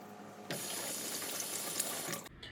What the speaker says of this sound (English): Just trying to get this all off my hands before I wash them and get more flour.